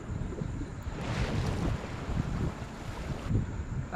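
A boat in the mobile battle game BGMI makes a continuous rushing wash of water and wind, steady and fairly loud throughout.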